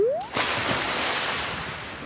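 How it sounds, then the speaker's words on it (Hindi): Cartoon character jumping into water: a quick rising whistle-like zip, then a splash and a sustained broadband wash of sloshing water that fades slowly, with no talk. "इतना कहकर रमन पानी में छलांग लगा देता है"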